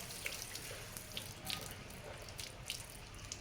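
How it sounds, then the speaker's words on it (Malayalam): Steady running water splashing out of a pipe at close range while a fish tank is drained, with small bright drips and spatters scattered through, no voices. "നമുക്ക് ഇവിടേക്ക് വിടാം വെള്ളം"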